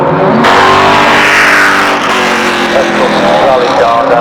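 A vintage rally works car, a 1978 RAC Rally machine, pulls away from the start line with a loud, close engine roar that rises and holds through the stretch, with voices underneath.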